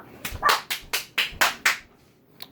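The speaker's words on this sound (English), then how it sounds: "They bark at everything going by. I hate hounds." Hounds barking, six sharp, evenly spaced barks in quick succession, loud and close, followed by a brief pause and one faint short yip.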